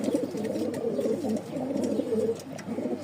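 A male Lahori pigeon coos loudly and close up in a continuous rolling, throaty call with no talk over it.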